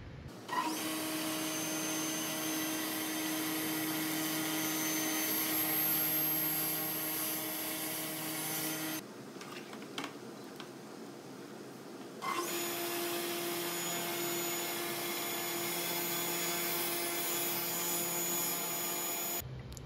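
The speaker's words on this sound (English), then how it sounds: "so we can make these cuts with the table saw" A table saw runs with a steady whine while cutting wood on a crosscut sled, briefly dropping off mid-way before spinning back up and continuing the cut.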